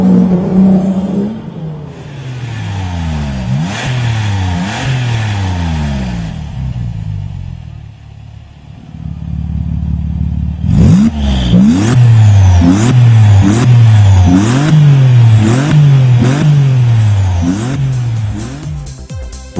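A car fitted with a Capristo exhaust revs repeatedly in sharp rising and falling bursts, loud and close, with a short lull before a rapid run of punchy blips.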